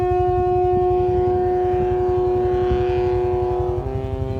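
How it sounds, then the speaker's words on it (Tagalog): A passenger launch boat sounds one long, sustained horn blast, loud and steady. A low, throbbing engine rhythm pulses beneath it, and the tone dips slightly near the end. "yung lansya bumusina"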